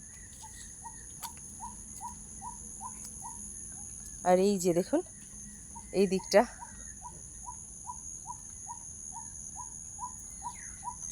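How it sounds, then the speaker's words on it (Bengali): Small birds chirp in green, rain-soaked trees beside a brimming pond, a regular series of short, bright repeated calls at moderate distance, briefly interrupted by a person speaking. "পাখির কি সুন্দর মিষ্টি আওয়াজ কি সুন্দর মিষ্টি আওয়াজ ধরে ডাকছে বলুন তো"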